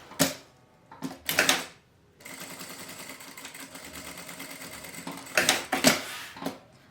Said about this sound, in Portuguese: faço também outra costura prendendo